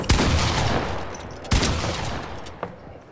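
Pump shotgun blasts in a video game, two loud, close booming shots about a second and a half apart with long decaying tails, followed by a fainter third report.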